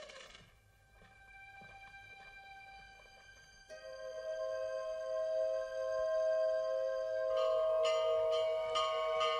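A bell rings out steadily with long sustained tones, growing louder and fuller partway through as more bells join, with no talking.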